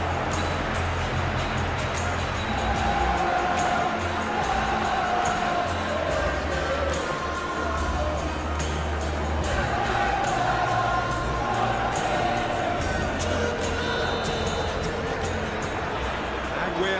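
Stadium crowd in the football video game PES 2021 during a Manchester City vs Newcastle Carabao Cup match, a constant roaring murmur with swelling cheers, under a low rumble and some talk.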